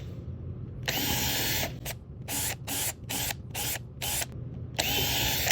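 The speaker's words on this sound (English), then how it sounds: "I'm going to turn my drill up, and we're going to town." A turned-up power drill drills out the glides of a Zipper wand in loud bursts: one long run, then several short on-off pulses, then another long run.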